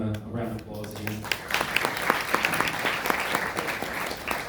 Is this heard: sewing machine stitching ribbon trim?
no